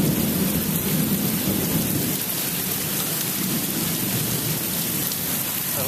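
A big thunderstorm with heavy rain and gusting wind, a dense, steady roar of rain pounding surfaces with low thunder rumble throughout, loud and close with no voices.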